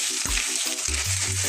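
Sautéed bitter gourd is stirred in a pan, a bright close sizzle broken by quick scraping strokes and low knocks of the utensil. No voices.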